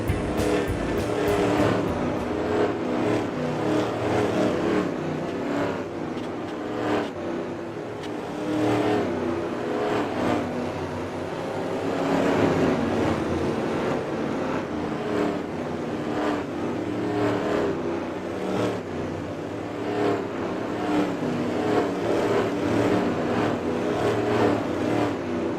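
Demolition derby cars from a 1970 Bristol event rev and race laps, a dense continuous roar of several engines with rising and falling surges throughout, loud and steady with no clear speech.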